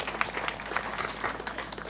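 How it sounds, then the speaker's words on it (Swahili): A church congregation applauds after a sermon with faint, steady, distant clapping that blends into a dense crackle over a low hum, holding at an even level throughout. "Tupigie makofi."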